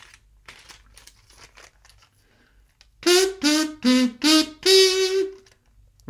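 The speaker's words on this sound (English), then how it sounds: "Let's try it with the wax paper as well." A comb wrapped in wax paper and hummed through buzzes out a short tune of five loud, reedy notes, following a few seconds of faint rustling and handling.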